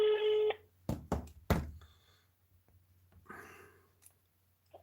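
Telephone number being dialed: a run of steady electronic key tones at the start, then a few sharp clicks and knocks as the handset is handled, fading into quiet room noise.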